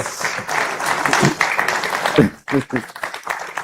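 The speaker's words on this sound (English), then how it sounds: "Yes, go ahead and clap." Audience applause in a conference hall during a question session with a finance minister and central bank governor in Ghana, a dense broadband patter of clapping mixed with crowd voices and talk, fading briefly then resuming.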